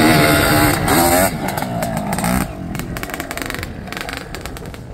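A Yamaha TRI-Z 250 three-wheeler revs loudly on sand dunes, its engine roaring close to the mic, then dropping and pulsing through throttle blips and wind buffeting.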